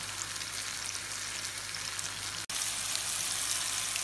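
Banana slices fry in a pan of oil with a steady, dense sizzle that stays loud and even throughout, broken only by a momentary dropout partway through.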